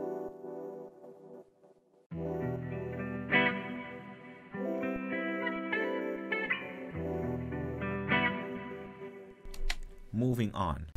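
A guitar sample runs through a jittery, spacey filter shaper effect, producing sustained chordal tones with pulsing, wavering filtered texture and reverb, ending in a swirling flourish.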